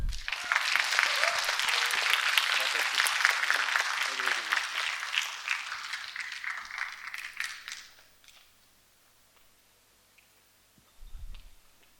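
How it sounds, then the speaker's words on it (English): Audience applause welcomes a venerable Buddhist nun onto the stage at a talk event, a dense sustained roar of clapping for about eight seconds that then tapers off into quiet, with a brief low thump near the end. "Let us give a huge round of applause"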